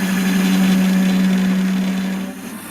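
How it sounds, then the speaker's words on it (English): A Warco metal lathe runs while cutting a groove, giving a loud, steady motor hum with a strong tonal whine that eases slightly near the end. "Start the lathe up"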